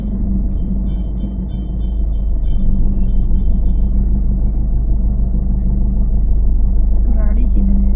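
A car's engine idles and runs steadily during a driving lesson, making a continuous low rumble that swells slightly after the first couple of seconds, with faint voices talking over it.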